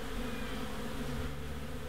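Wild honey bees from a hive being removed from a chimney, a dense, continuous close-up buzzing drone that holds steady and loud throughout with no voices.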